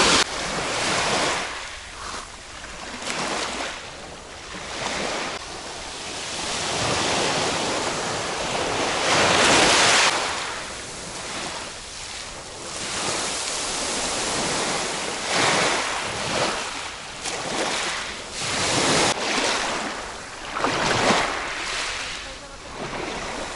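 Sea waves rolling onto a pebble beach at a resort in Alanya, Turkey, a continuous loud wash of surf with repeated surges and retreats, mixed with gusty wind buffeting the microphone.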